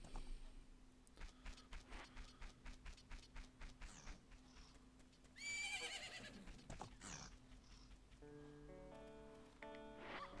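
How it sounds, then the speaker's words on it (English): Horse neighing in The Legend of Zelda: Majora's Mask on GameCube, a short whinny rising over a rhythmic run of clip-clop hoof steps and game music, followed by a musical jingle. "Isn't that your horse?"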